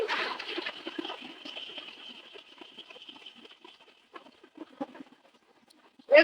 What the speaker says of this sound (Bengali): বাইরে একদম মুসলধারা বৃষ্টি